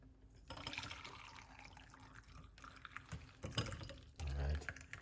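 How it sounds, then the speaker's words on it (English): A drink made with lemon being poured out in a home kitchen, a steady liquid splash and trickle lasting several seconds with a fuller gush near the end, close and fairly quiet. "Pour it out."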